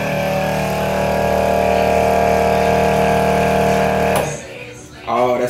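An Everflo soft wash pump runs loud and steady as a continuous motor drone for about four seconds, then cuts out abruptly. Someone starts speaking afterward.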